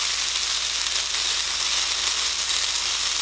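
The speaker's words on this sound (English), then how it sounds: "Ooh, you hear that sizzle?" A continuous, loud sizzle of food frying on a hot panini maker, a steady crackling hiss with no talking.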